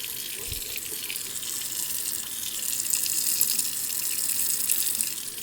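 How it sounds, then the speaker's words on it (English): Tap water pours steadily from a faucet into a sink, a constant bright hiss that builds slightly and holds close and loud throughout, with no voices. "So got the water running."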